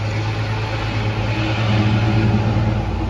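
A lifted truck's engine idling close by, a steady low rumble with a droning hum that holds constant throughout.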